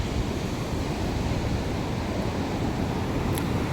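Sea waves wash in at Puri beach at night as a steady, close, broadband rush of surf with a windy hiss and no voices.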